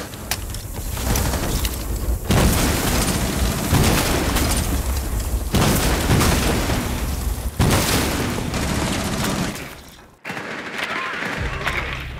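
Sequential breaching charge blasts in Rainbow Six Siege, a loud sustained rumble of booming explosions that rolls on for about ten seconds and then drops away briefly before more noise resumes.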